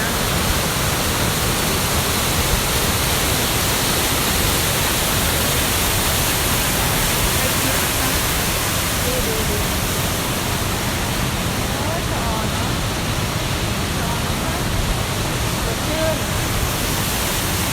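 Steady, dense rushing of falling water from the Coo waterfall in Belgium fills the whole clip, loud and unbroken like a nearby waterfall.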